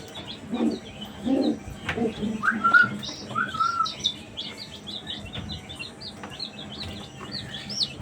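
Young chickens in a new chicken house bedded with sawdust give soft scattered chirps and a few low coos, fairly faint against a quiet background, with some light rustling.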